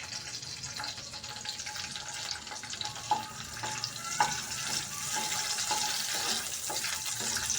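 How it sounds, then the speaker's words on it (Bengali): Cashews and raisins fry in a pan for payesh, a steady sizzling hiss with scattered small pops and crackles throughout, close and fairly quiet, with no talking. "কাজু কিশমিশটা ভাজা হচ্ছে"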